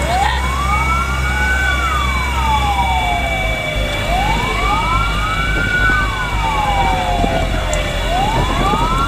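Fire engine siren wailing in repeated rising and falling sweeps at a large house fire in Ogan Ilir, loud and steady throughout over a low rumble of traffic and crowd noise.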